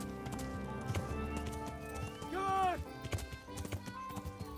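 A horse galloping in Kingdom Come: Deliverance, rhythmic hoof clip-clops with a loud neigh in the middle, and faint talk underneath.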